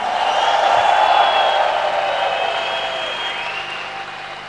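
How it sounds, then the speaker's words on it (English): Conference audience applause at ICON 2012, a loud burst of clapping that slowly fades over a few seconds with a ringing tone behind it. "Give them a round of applause."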